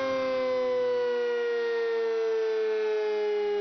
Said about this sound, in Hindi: ये सायरन फायर ड्रिल की मशक के लिए बजाए जाते हैं।